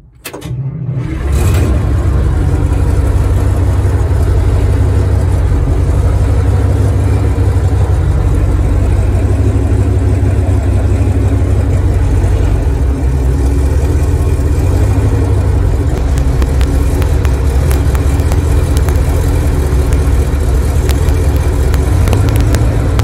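An old wheel loader, left sitting for 20 years, runs with a loud, steady low diesel rumble after firing up, the engine holding a rough idle throughout with slight shifts in load.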